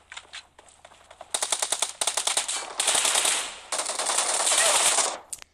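Rapid automatic gunfire from a mobile shooter video game, starting as scattered taps, then swelling into loud, sustained bursts of rattling shots that cut off abruptly at the end.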